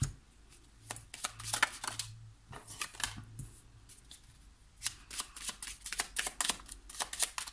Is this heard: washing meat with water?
no